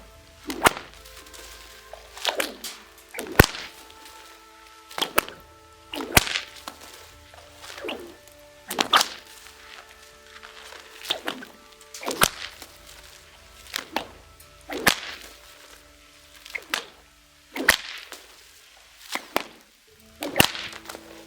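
Bullwhip cracking outdoors, about a dozen sharp, loud cracks at irregular intervals of one to two seconds, each a crisp snap with a brief swish before it, close by, over a steady faint hum.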